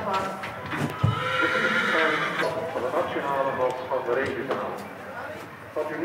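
A Friesian horse being readied for competition whinnies loudly and at length near the start, with hoof clip-clop around it and people talking throughout.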